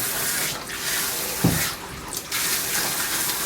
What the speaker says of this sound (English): So rinsing should take longer than all that lathering.